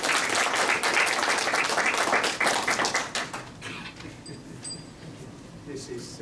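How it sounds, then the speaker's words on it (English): An audience at a winter symposium gives Jim a round of applause, dense clapping that thins after a few seconds into scattered claps and faint voices. "Let's give Jim a round of applause."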